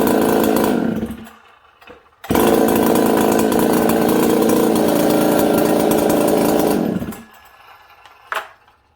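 A Husqvarna 266 chainsaw, carburetor running poorly, sputters briefly, stops, then is pull-started again and roars loudly at high revs for several seconds before cutting out, with a short sharp blip near the end.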